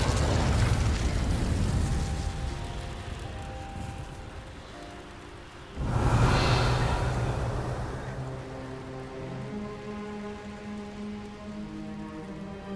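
A fiery burst from the Incendio fire spell in the video game Hogwarts Legacy: crackling, rain-like noise swells, fades, then erupts again in a louder whoosh before settling into a lingering rumble with tonal game music underneath.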